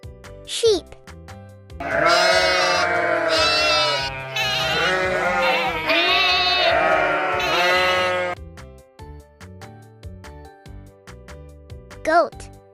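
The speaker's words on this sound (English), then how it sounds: "sheep." A sheep bleats in several drawn-out, wavering calls close by, bracketed by brief child-like voice fragments and soft musical notes in the background.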